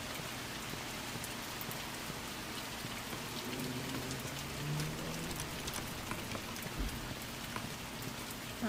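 Rain in the horror video game The Mortuary Assistant, a steady, even patter of drops on surfaces, soft and continuous with scattered sharper drips and no voices.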